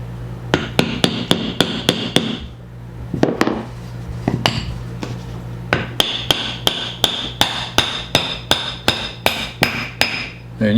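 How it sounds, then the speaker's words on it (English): Hammer tapping a lower bearing into a lawn mower spindle: sharp metallic strikes in quick repeated bursts, a pause of a few seconds, then a longer steady series of ringing blows, close and loud with no talk. "you can tell the difference in the sound when that lower bearing gets seated"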